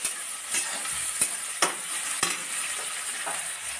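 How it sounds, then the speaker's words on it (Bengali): Mixed vegetables stirred in a pan for fried rice, a continuous close sizzle broken by several sharp scraping strokes of the utensil. "সবজিগুলো সব মিক্স করে নিলাম।"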